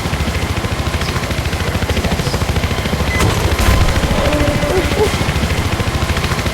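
Modded helicopter in Minecraft firing anti-ground missiles: a steady rapid mechanical chatter of rotor and gunfire throughout, with a louder burst of explosive booms midway, near and continuous with no talk.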